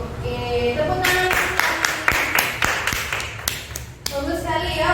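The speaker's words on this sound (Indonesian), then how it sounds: "Oke, tepuk tangan" A classroom group claps in a short burst of a few seconds. The clapping is close and uneven, with voices heard before and after.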